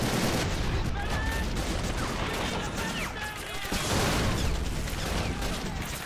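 Dense gunfire crackles in a Men of War: Assault Squad 2 battle, with rapid machine-gun bursts and scattered shots over rumbling explosions in a loud, continuous fusillade.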